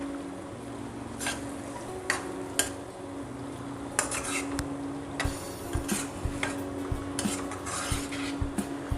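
Metal utensil stirs and scrapes paneer, capsicum and onion in a kadhai, giving repeated clanks and scraping strokes at an irregular rhythm, close and clear, with no talking.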